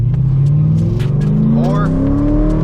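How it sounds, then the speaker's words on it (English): Cammed Corvette V8 engine rumbling close and loud, pitch climbing steadily as revs rise on downshifts, with a person talking over it. "you're not beating the sounds of the downshifts"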